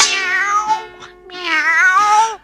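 In a Tamil children's song, a singing voice imitates a cat's meow with drawn-out, wavering cries. Two long, loud sung meows are separated by a brief dip.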